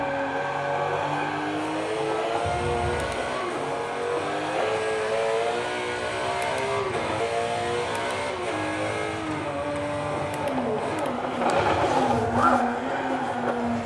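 Steady, buzzing Porsche race car engine in a racing video game played on a Logitech G923 wheel sim rig, with rising and falling revs and faint tire noise, loud and continuous throughout.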